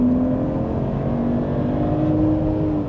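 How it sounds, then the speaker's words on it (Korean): A Mercedes GLE 450 4MATIC midsize SUV with a 3.0-litre engine accelerates under firm throttle, its steady engine drone holding loud and close while the tones slowly climb, with no talking. "다시 한번 가속 페달을 꾹."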